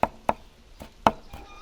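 A knife chops fresh mixed green herbs on a board in five crisp, separate strikes, close and fairly loud, in an uneven rhythm with no talking.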